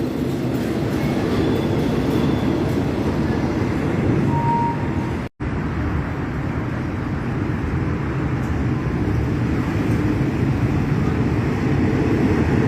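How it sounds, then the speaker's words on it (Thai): Train No. 284 rolls past the Rom Klao road railway crossing near Lat Krabang station, a loud, continuous rumble of wheels and rails up close, broken by one brief dropout midway. "ขณะนี้กำลังวิ่งผ่านจุดตัดทางรถไฟถนนล่มเก้า"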